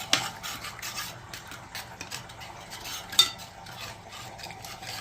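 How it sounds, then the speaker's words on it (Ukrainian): A spoon stirs a seasoning mixture of spices in a bowl while preparing turkey wings, giving a soft continuous scraping and rubbing with faint clinks of metal against the dish, close and steady, with no voices. "І тепер це все беремо і змішуємо."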